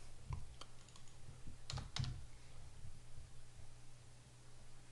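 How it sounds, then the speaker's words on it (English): Quiet computer keyboard typing: a few scattered keystrokes, then a quick cluster of clicks near the middle, over a faint background hiss. "let's just type in."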